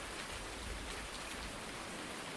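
Steady rain falling in the farming video game Farm Sim around a new shed, a continuous broadband hiss with no talk, moderately quiet and even throughout.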